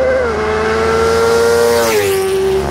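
A Honda Fan and a 330cc motorcycle race past in a street drag race: loud, close, high-revving engine whine that holds steady, then drops in pitch as the bikes go by.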